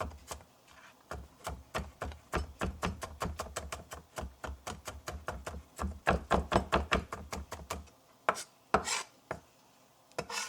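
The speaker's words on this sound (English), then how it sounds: "Got a little overzealous with my chopping there." Rapid, steady knife chops on a cutting board, close and crisp, in quick runs with a few short pauses and scattered final taps.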